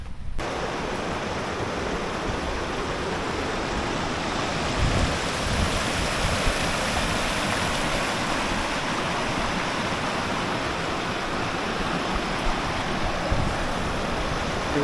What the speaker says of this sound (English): Beautiful, refreshing creek.